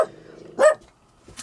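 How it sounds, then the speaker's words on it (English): A pet dog barks twice indoors, close by, with a short loud bark followed by a quieter second bark after a brief pause. "I have no idea what she's barking at."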